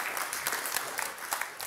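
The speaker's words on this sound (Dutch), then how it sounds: "Graag een hartelijk applaus voor Susanne Hulsje." An indoor audience claps for a speaker at a Dutch talk event, a brief burst of moderate applause heard at some distance.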